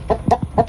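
A Bangkok chicken on a farm gives a short run of three or four quick, close clucks.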